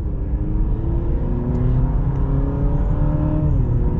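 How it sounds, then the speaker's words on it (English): The engine of a 2023 Honda CR-V Sport Touring hybrid runs at partial throttle in sport mode, heard from inside the cabin as a steady low drone with a faint pitch that slowly rises and then drops. No one speaks. "I can hear the engine running. It's probably charging the battery right now"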